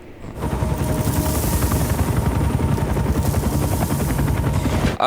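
A helicopter's rotor thumps steadily and loudly throughout, a dense rapid chopping with a whining engine tone above it.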